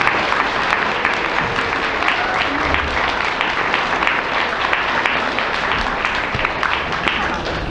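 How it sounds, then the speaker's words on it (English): A school assembly audience gives a sustained round of applause, steady dense clapping filling the room for the whole stretch with no break. "One more round of applause for these guys."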